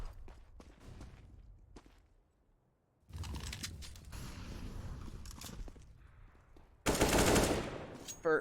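Gunfire in a Counter-Strike match on the Dust2 map, with scattered shots early, a quiet gap, then sustained mechanical rattle and a loud dense burst near the end, mixed with game ambience.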